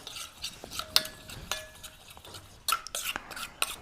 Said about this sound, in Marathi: आणि हे सगळं आपल्याला एकदम मिक्स करून घ्यायचंय आणि थोडंसं हे असं चमच्याने ना फेटायचंय आपल्याला